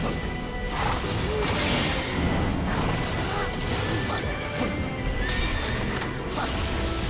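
A horse whinnies amid a dense, busy soundscape in the video game Stranger of Paradise, with hoof clatter and crashing impacts, the neighing rising briefly over steady loud background noise.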